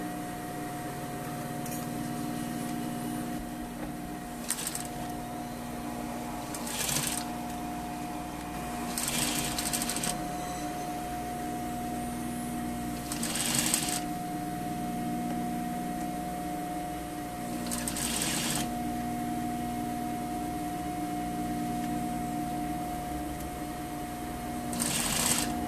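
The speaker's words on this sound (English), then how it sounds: "Sewing all the way down to the bottom." A sewing machine stitches down a trouser front fly in short bursts of rapid mechanical whirring, separated by pauses, over a steady electrical hum, close and moderately loud.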